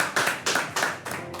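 A small studio audience applauds a guest at a jiu-jitsu talk show in Jakarta, a short burst of several hands clapping in uneven waves, fairly close, with no voices.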